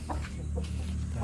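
A hen gives a few soft, close clucks over a low background hum, with no talking.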